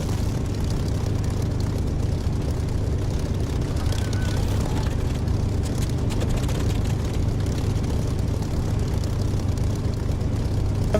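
Piston engines of several Spitfires in the DCS flight simulator drone steadily and continuously, a loud low propeller-engine rumble that holds throughout with little change in level.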